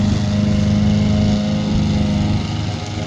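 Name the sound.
remote control lawn mower running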